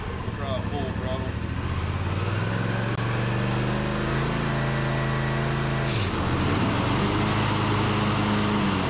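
A 2020 Ariens Ikon XD 60-inch zero-turn lawn mower engine runs at full throttle, a loud steady close drone that drops in pitch partway through, with a person speaking over it.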